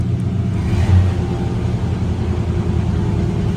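A square-body truck's engine rises in a steady, fairly loud low rumble as it picks up speed after cruise control resumes, with no talk over it.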